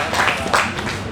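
An audience at a Chevron safety stand-down event applauds in a steady, dense patter of many hands clapping, fairly loud and close, lasting about a second with no one speaking over it.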